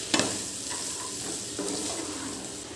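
Half a kilo of chicken fries slowly in oil, with no water added, giving a continuous close sizzle and a soft crackle, plus a few faint clinks near the start.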